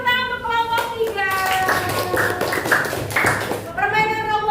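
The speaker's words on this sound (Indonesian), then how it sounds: "Beri tepuk tangan untuk kelompok 3" A group of children and adults give a burst of hand clapping for a team in a classroom game, the applause rising in the middle between stretches of a voice before and after.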